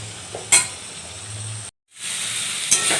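Ivy gourd (kundru) sizzles and hisses in a frying pan, a steady close crackle with a couple of short stirring scrapes and a brief silent gap near the middle.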